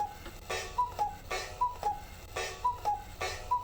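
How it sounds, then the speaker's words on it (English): A cuckoo clock in the Black Mirror II adventure game ticks loudly and regularly, each heavy tick paired with short, thin two-note tones in a repeating mechanical rhythm, close and alone without voices. "I think I'll leave the cuckoo clock alone. That was so loud it was getting picked up on the mic."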